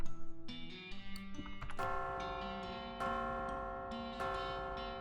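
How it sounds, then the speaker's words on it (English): Big bells ring in the video game West of Loathing, with about five clear struck tones in a row, each with a long sustained ring that overlaps the next, loud and alone. "Oh, that's nice. Yeah, it's a pretty good bell. Nice clear tones."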